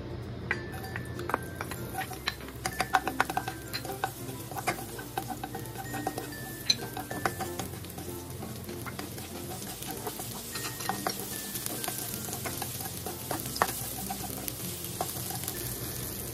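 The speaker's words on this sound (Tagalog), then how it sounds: "Tapos sunod natin yung ating bawang at sibuyas." Garlic and onion sizzling in hot cooking oil in a pan, a steady crackling fry with scattered sharp pops and ticks running throughout, close and continuous with no talking.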